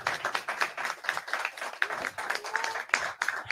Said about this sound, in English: All right, big round of applause again